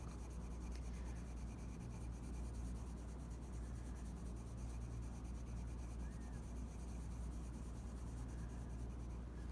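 Colored pencils shading and blending on paper make a continuous close scratchy rubbing, steady and even in loudness throughout, with no voice heard.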